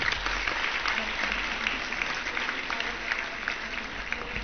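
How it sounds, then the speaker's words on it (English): A school event audience claps steadily, a continuous crowd applause of even loudness lasting several seconds without pause. "A big clap."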